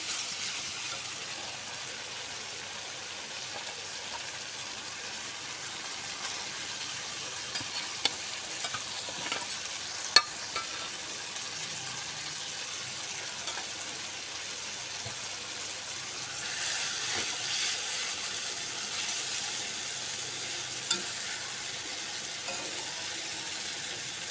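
Spice paste for a katla fish curry fries in oil with a soft, steady sizzle and a few sharp clicks of stirring, fairly quiet and close with no voices.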